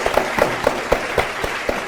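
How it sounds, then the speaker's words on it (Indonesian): Studio audience applauding on an Indonesian quiz show, a steady wash of clapping with regular louder bursts, no talk over it. "Oke, tepuk tangan."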